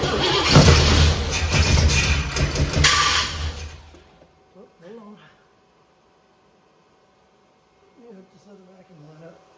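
A 1977 Grand Prix car engine cranks in a loud, rough, grinding burst for several seconds, then cuts out to near silence, with faint voices afterward.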